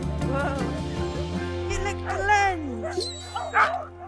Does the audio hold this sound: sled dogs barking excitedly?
yes